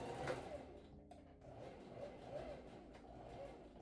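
A home sewing machine top stitches across the ends of a fabric casing, giving a soft, steady mechanical whir with a light rhythmic patter, quiet and fairly close.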